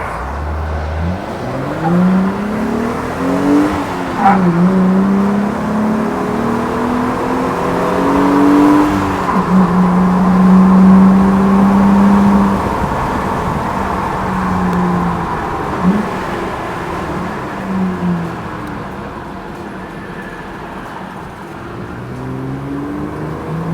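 Jeep Gladiator with an aftermarket clutch driving along, a loud steady engine drone heard from inside with rising and falling pitch as it shifts and slows, and no talking.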